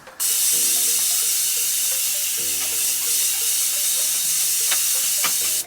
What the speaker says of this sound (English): So I'm going to put some setting spray on